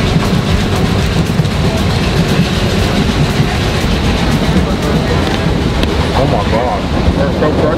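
A train rolling along rails in Sri Lanka, loud continuous rumble and rattle of the carriage with wind noise and faint voices in the background.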